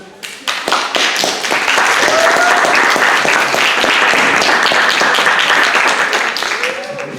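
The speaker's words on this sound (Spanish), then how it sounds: "Recibámoslos con un fuerte aplauso." An audience at a panel session on transmedia narratives and contemporary journalism breaks into loud applause to welcome the panelists, starting with a few sharp claps then swelling into dense, sustained clapping close by before tapering slightly.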